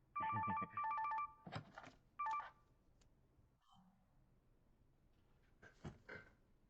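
Telephone tones ring out in two loud, evenly spaced bursts, followed by a short third one. Quieter noises and faint talk fill the gaps between them.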